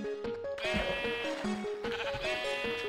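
Minecraft sheep bleat in quick succession, loud and close, the wavering game bleats repeating several times without any talking.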